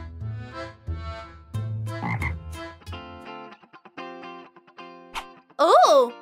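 A voice imitates a broken cartoon frog croaking in a princess story: distorted, buzzy croaks in uneven bursts, loud and close, ending in a warbling squawk.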